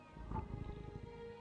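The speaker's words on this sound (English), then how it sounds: "apologies if you guys hear purring in my microphone." A cat purrs right against a microphone, a brief low rumbling flutter that swells and fades over about a second, close and soft with no talking.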